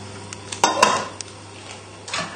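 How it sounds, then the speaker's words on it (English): Metal lids lift off pots of carrots and potatoes with a couple of sharp clanks up close. Softer knocks and faint rattles follow in a quiet kitchen. "So we can take the lids off the carrots and the potatoes"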